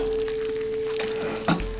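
Shrimp stir fry sizzles steadily in a hot pan, close and continuous, with a few scraping stirs of the utensil and a louder clack near the end.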